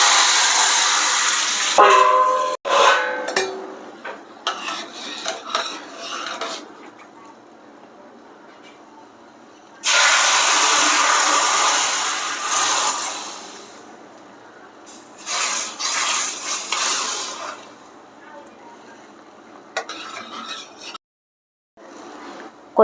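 Curry leaves and tempering spices sizzle loudly in hot oil as the tempering goes into an Andhra pappucharu dal, with bursts of hissing spatter stopping and restarting across the stretch, alone with no talking.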